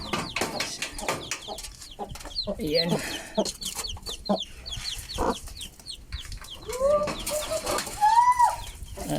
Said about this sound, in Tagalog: may mga bagong pisa tayo dito na manok.